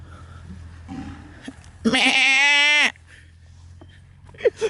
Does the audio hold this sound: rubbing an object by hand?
no